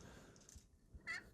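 A traditional slate turkey call imitating a soft, lonely hen yelp, a couple of brief, faint, high scratchy notes with a quiet pause between them, heard up close and alone.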